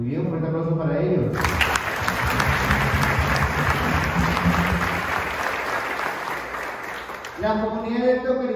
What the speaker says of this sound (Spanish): Muy bien, un fuerte aplauso para ellos.